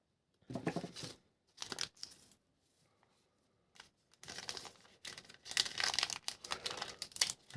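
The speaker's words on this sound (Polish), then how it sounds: "Otwieramy drugą saszetkę z kartami." A foil sachet of trading cards is torn open by hand, with short bursts of crinkling and ripping separated by brief pauses.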